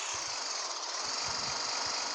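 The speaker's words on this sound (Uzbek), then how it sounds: "Zo'r mashina ekan. Mana traktor olganman." A tractor engine runs steadily nearby, a loud continuous rumble with rhythmic low knocking pulses and no speech over it.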